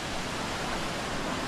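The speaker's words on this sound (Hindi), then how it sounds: "ये देख सकते हैं गाइस काफी सुंदर वाटरफॉल है और काफी बड़ा वाटरफॉल है" Rushing water of the large Pawai Waterfall in Balrampur, Chhattisgarh, heard as a dense, even, full-range roar that stays close and steady for a brief moment.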